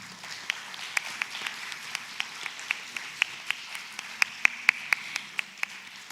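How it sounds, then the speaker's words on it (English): Sharp handclaps ring out at an uneven, steady pace, spaced apart rather than blending into a full roar, over a faint background hum, as an audience applauds at an arangetram dance recital. "A big round of applause for all of them."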